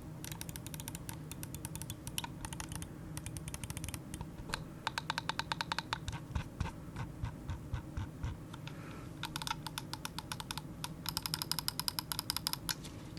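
Clicks from the buttons of an ATK Blazing Sky F1 Leviathan Edition gaming mouse, sharp, close and rapid, coming in quick bursts and runs separated by short pauses.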